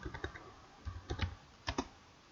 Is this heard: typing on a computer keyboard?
yes